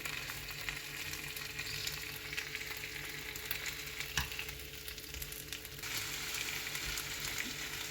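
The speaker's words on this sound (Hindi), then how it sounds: "और अब थोड़ा सा इसको रोस्ट करते हैं, इसी तरह हिला जुलाकर इसको रोस्ट करते हैं।" Lamb neck chops being roasted and stirred in a pan, a soft continuous sizzle with occasional faint scrapes and knocks, no voices.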